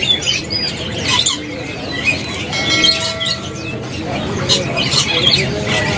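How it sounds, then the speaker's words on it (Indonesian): Bali oriole (kepodang) birds at a bird kiosk give close, busy chirps, squawks and whistled calls, with other birds chattering around them throughout. "ke kios dari burung kepodang Bali yang sudah gacoran ini"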